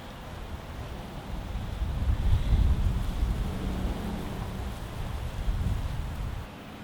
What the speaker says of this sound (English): It's the air conditioning unit.